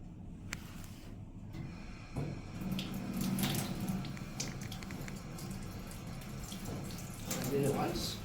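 Tap water runs steadily and splashes while feet are washed during wudu ablution, continuous and close, with some faint talk underneath.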